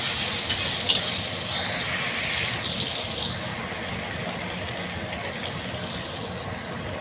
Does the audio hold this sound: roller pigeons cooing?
no